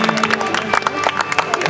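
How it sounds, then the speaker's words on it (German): Festival crowd at an outdoor stage show claps and cheers for a performer, a steady loud spatter of hands with crowd noise beneath. "Applaus"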